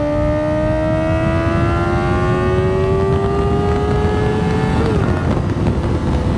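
A Kawasaki Ninja ZX-4RR sport motorcycle engine whines steadily upward in pitch as it revs high, loud and close, then briefly drops and settles near the end.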